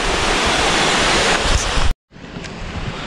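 Waterfall at Kimadi near Dehradun: a loud, dense, continuous rush of falling water, broken by a brief silent gap before the roar resumes.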